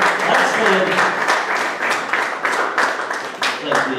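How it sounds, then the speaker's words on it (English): Audience at a sports club player draft event applauds steadily for several seconds, a dense, continuous clapping that stays loud throughout with small swells. "Let's give him a round of applause one more time"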